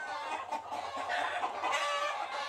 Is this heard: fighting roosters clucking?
yes